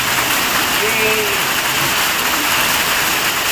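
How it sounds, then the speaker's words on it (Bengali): Heavy rain pouring outside a shelter on a trek from Dovan to MBC, a dense, loud, steady wash of noise throughout, with faint voices underneath. "বাইরে এরকম বৃষ্টি আর আমরা এরকম শেডের তলা ওয়েট করছি"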